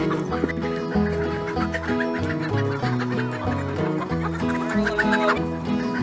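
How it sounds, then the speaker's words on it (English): A flock of farm chickens clucks and squawks continuously in a busy, close chorus of overlapping calls, with ducks kept alongside them. "She loves when the ducks and the chickens flap their wings."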